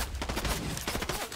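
Rapid, continuous automatic gunfire in a video game, dense and loud, with overlapping shots forming a sustained rattling barrage.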